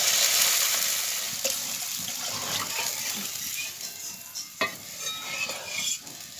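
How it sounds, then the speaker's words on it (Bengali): Water poured into fried spice paste for a catla fish curry gives a hissing, bubbling sizzle that gradually settles, with scattered stirring scrapes and clinks toward the end and no clear talk. "মশলাটা ভালো করে ভাজা হয়ে গেছে,"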